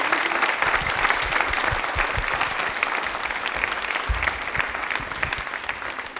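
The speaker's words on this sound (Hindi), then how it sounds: "शिवानी राजपूत जी के लिए तालियां एक बार जोरदार बजा दीजिए आप।" An audience at a quiz event applauds loudly and continuously, a dense sustained clapping from a crowd, with faint voices mixed in.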